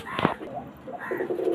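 Pigeons coo in a couple of soft, throaty, rolling calls, close by, with a brief sharper sound near the start and no talk.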